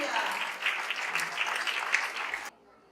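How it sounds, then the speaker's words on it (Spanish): Church congregation applauding to praise the Lord at a semi-annual women's missionary service: dense, steady clapping for about two and a half seconds, then an abrupt cut to near silence. "¿Cuántos traen aplausos para el Señor?"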